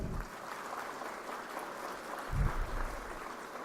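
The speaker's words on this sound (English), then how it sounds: "I think they require a much more loud round of applause" A round of applause at a National Pharmacy Week celebration at a college of pharmacy in Ooty, heard as a steady, fairly faint wash of clapping from a crowd lasting several seconds.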